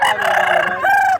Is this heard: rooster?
yes